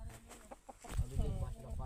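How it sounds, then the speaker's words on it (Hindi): Roosters held ready for a cockfight cluck and call at close range in short bursts that grow louder partway through, with faint voices in the background. "यहाँ पर अभी हम मुर्गे लड़ाएंगे।"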